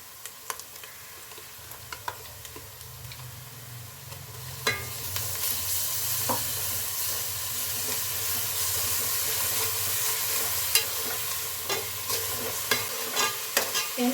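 Ground ginger-garlic paste and green chillies hit hot oil in a pan for pepper chicken, starting with light clatter and then swelling into a loud, continuous sizzle with stirring scrapes and utensil taps throughout.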